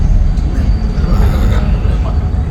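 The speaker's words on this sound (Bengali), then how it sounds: "ট্রেন যাচ্ছে" A train rolls past on a Sri Lankan line near the seashore, a close, steady low rumble and clatter that fills the whole stretch without a break.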